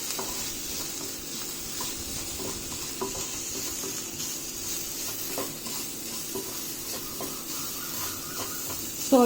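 Grated ginger sautéing in a pan, a steady close sizzle and hiss with light intermittent stirring scrapes running throughout.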